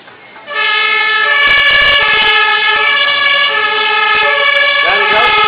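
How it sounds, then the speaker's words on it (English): A fire engine siren starts up loudly and close, holding a continuous wailing tone as the Menai Bridge fire crew's engine pulls out during the Anglesey Half Marathon, with brief horn toots and clatter mixed in. "Give the fire engine a wave as they go out."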